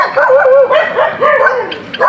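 Several dogs bark and yip in quick succession, close by, with a few higher whining yelps mixed in.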